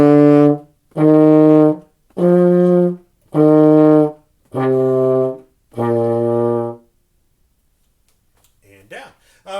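A baritone horn plays five steady half notes, each held about two beats with short gaps between, loud and close, followed by a brief spoken voice at the end.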